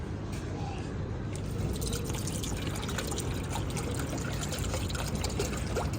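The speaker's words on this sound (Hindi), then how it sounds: "हम आ गए थे पानी डालने" Water is poured steadily, a continuous close, loud splashing rush that stays even throughout with no talking.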